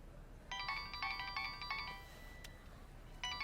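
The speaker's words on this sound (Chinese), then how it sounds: "我接个电话。" A mobile phone ringtone plays in a quiet room as a repeating melodic pattern of bright tones, soft and fairly near, pausing and then starting again, with no one talking.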